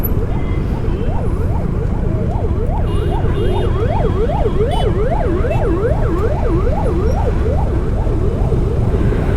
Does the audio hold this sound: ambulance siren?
yes